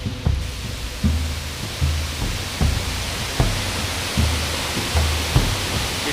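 A waterfall in the Mexican jungle gives a steady, broad rushing roar, with soft low thumps repeating roughly every half second underneath.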